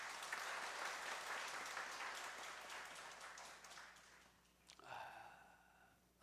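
Applause from a church congregation welcoming new members at a Sunday morning service, dense steady clapping that fades out over several seconds before a short voice sound near the end.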